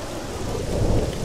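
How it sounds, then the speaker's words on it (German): Rain falling in the video game ELEX, a steady hiss of rain with a low rumble of thunder swelling near the end, no voices over it. "Regen tut schon wieder."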